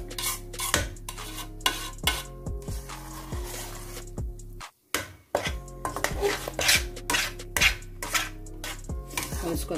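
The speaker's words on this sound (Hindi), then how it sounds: "तो मैं इसमें ये आधा कप ऐड करूँगी और इसको अच्छे से मिक्स कर देंगे" A spoon stirs powdered sugar into a milk barfi mixture in a metal pot, producing rapid, repeated scraping clinks and clattering taps in an irregular rhythm, close and fairly loud, with one brief pause midway.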